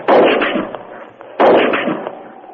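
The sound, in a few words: rifle shot sound effect in radio drama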